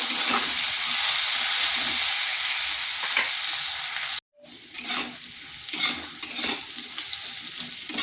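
Potato pieces stirred and fried in oil over medium heat, a continuous close sizzle with spatula scrapes, briefly cut to silence midway before the frying and stirring resume.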